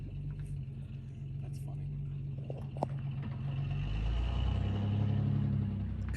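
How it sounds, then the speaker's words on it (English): An S10 pickup does a one-wheel burnout, its engine roaring and building steadily into a loud sustained rumble with tire noise, while people talk nearby. "One wheel peel."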